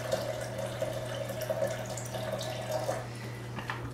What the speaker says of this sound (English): we're going to fill up with about 3½ cups of water